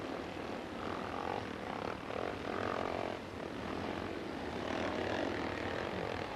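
Motocross motorcycles in a 1984 AMCA race roar over an artificial downhill jump, a dense, sustained engine drone that rises and falls as the bikes pass at middle distance.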